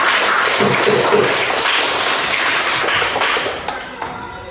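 Students in a classroom clap for a presenting group, a dense, steady burst of applause that fades toward the end, with faint voices underneath.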